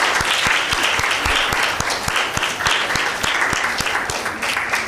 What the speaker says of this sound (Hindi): हम इनको इन्हीं की भरपूर तालियों में वेलकम करते हैं।